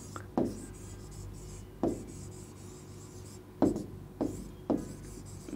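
Handwriting on paper makes several brief, separate scratchy strokes at irregular intervals, close and fairly quiet against a low background hum.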